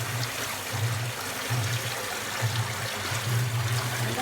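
Water running and trickling while raw wool is rinsed by hand, a steady close stream with a low gurgling pulse, no talking.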